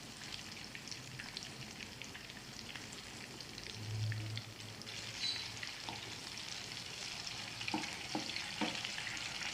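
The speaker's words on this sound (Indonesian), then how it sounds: "Ini digorengnya nggak usah dibalik-balik terus ya, sesekali aja, tapi sampai coklat kayak gini." Sanggara balanda banana fritters frying in hot oil, a steady soft crackling sizzle with occasional sharper pops, close and fairly quiet, with no voices.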